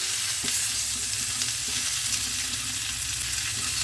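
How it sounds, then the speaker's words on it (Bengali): Spinach curry with ground cumin and turmeric is stirred in a frying pan, a continuous loud sizzle and hiss with scraping stir strokes, close and alone without talk. "জিরে গুঁড়োটা দিয়ে দিলাম এবারে ভালো করে নেড়ে দিই"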